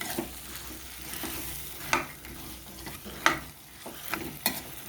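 Boiled chickpeas and potato fry in a pan for vegetarian chana masala, a low steady sizzle broken by a few sharp scraping stirs of a spoon against the pan, close by and with no talk.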